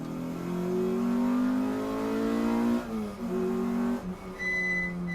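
Race cars race at Snetterton circuit, their engines roaring loud and close with rising revs. The pitch drops sharply as a car shifts gear or passes, then a higher engine note climbs in near the end.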